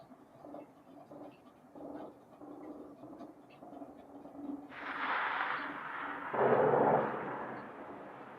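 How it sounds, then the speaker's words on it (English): A sizable explosion in the battle of Kyiv booms out as a loud, broad rumble that swells and lingers, rising over a quieter stretch of distant irregular thuds. "That was a sizable explosion."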